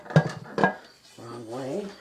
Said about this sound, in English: now I'm going to put my lid on here